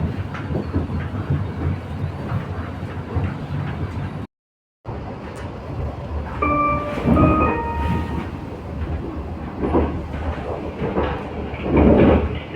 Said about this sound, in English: I'm in the S train to Højtostrup